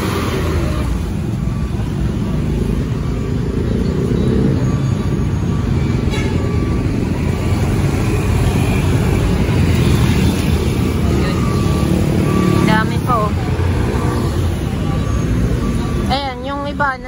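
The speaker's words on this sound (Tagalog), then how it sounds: "Yung kotse, mga motor, SUV, pickup, mga truck, mga dumadadaan dito, mga bus dito" Steady roar of busy street traffic on a road toward Cubao, with cars, motorcycles, SUVs, pickups, trucks, buses and jeepneys passing close by in a continuous wash, a few horn-like tones near the end, and a person talking over it.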